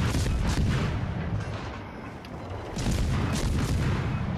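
High-explosive shell fire aimed at the destroyer Benson in a naval video game: a dense, continuous rumble of booming artillery blasts, loud and low, with no speech.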